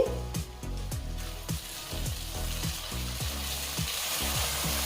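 Spices and tomatoes frying in a pan for a kohlrabi curry, a steady close sizzle with repeated stirring scrapes throughout and no talk.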